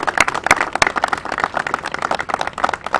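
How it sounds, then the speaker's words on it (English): Crowd at a community gathering for the Peaceoholics anti-violence group clapping in a lively, uneven burst, with several sharp loud claps standing out near the start over a dense patter of hands. "let's give another big round of applause for the Peaceoholics"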